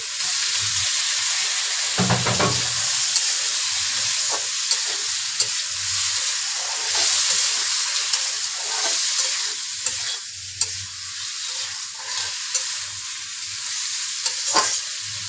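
Shrimp sizzle and fry in a pan with cumin paste while being stirred, a steady hiss broken by intermittent scraping and stirring knocks, close and alone without talk.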